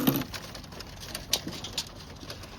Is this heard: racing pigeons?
yes